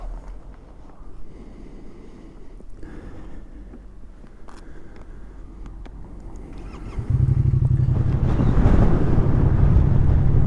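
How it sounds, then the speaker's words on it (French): Wind buffets the microphone of a rider on a moving motorcycle, a rough low roar that jumps sharply louder partway through and then stays strong to the end. "Il y a quand même pas mal de vent en vrai."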